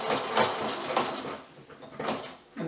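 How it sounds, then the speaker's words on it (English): A sewing machine stitches a seam on pajama pants, a close whirring hum in short bursts with brief pauses between runs. "I'm gonna sew past the reinforcing seam to the outer seam."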